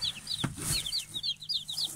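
A Swedish Flower Hen chick peeps in a series of high, short cheeps, a dozen or so in quick irregular succession, close but soft, with a few faint thumps and rustles underneath.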